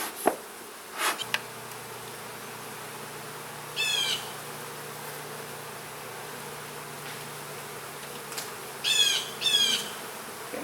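Honeybees buzz around an open hive full of brood frames, a soft constant hum with several louder buzzing bursts as bees pass close by, and no talking.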